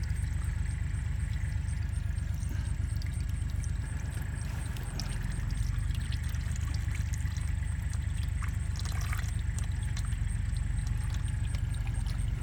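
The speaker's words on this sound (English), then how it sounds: "just to keep the flow controlled as I'm unscrewing the filter so it doesn't go everywhere" Engine oil drains into a pan while the oil filter is unscrewed on a 2016 Toyota Corolla, making a continuous, close trickling pour that runs steadily throughout.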